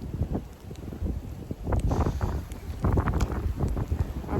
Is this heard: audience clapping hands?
no